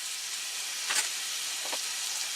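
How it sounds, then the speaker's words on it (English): Mushrooms cook slowly in a pan inside a van, giving a steady soft sizzling hiss throughout with a couple of faint brief crackles. "these mushrooms, I'm just gonna let these slowly cook"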